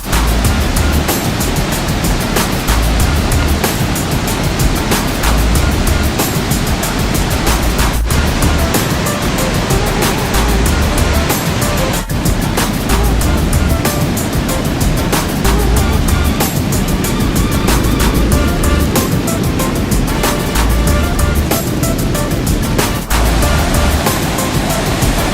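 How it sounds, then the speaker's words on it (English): Victoria Falls on the Zambia side roars as a dense, constant broadband wash of falling water and spray, loud and close, with steady low rumble for the whole stretch and no break. "Nothing but waterfall and rain."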